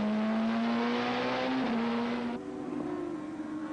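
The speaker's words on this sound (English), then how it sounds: "I tried to hold on round the outside at Paddock, but ended up being pushed sideways by the other Peugeot of Tim Harvey" Peugeot and Nissan touring cars racing around Paddock: loud, close engine whine climbing steadily in pitch, with a second engine layered over it that drops away partway through.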